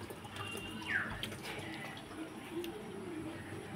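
Tap water running steadily into a bath in a home, a soft continuous gush, near and moderately quiet, with a faint voice briefly over it.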